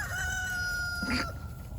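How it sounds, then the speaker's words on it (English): A rooster crows once, a rising then falling call in the distance over a steady background hum. "There's a rooster crowing."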